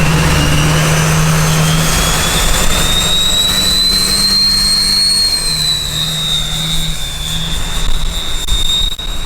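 Duramax diesel swapped into a K20 truck runs steadily, a loud continuous roar with a high whistling tone that rises and falls slowly over it, and no voices.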